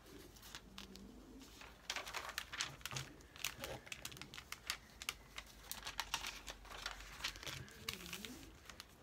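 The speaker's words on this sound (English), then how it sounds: "I'm going to rip this out for the word care." A magazine page torn out by hand for a collage, giving quiet, scattered papery rips and crinkles spread over several seconds, close up with no voices.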